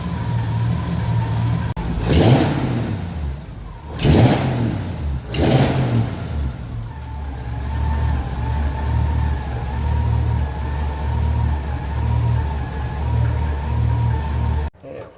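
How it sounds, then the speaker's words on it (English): A 1951 Mercury flathead V8 runs loud and close, with a steady, even idle broken by three quick throttle blips early on before it settles back to a smooth, constant rumble until it cuts off at the end. "That's a 72-year-old engine."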